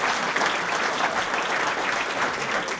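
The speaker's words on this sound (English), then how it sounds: "please give them and each of yourselves a round of applause" Sustained audience applause at a Chamber of Commerce installation event, a dense, steady wash of many hands clapping for the whole stretch without letting up.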